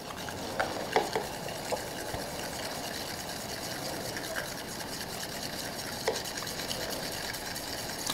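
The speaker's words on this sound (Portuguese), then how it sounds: "eu vou pegar aqui com a minha espátula um pouquinho a quantidade do amarelo e vou misturar aqui no branco" A spatula stirring yellow paint into white paint, a steady soft scraping and smearing texture with occasional light taps against the container, close and quiet throughout.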